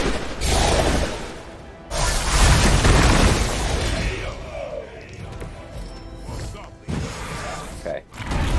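Heavy booms and thuds burst out in the Marvel's Midnight Suns game as combat explosions hit, loud impacts recurring in bursts with quieter gaps between them.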